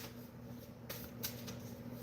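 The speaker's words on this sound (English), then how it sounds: "I'm going to take the rest of the deck and I'm going to shuffle them right in front of you" A deck of tarot cards being shuffled by hand, soft riffling with a couple of sharper card slaps, close but quiet over a faint room hum.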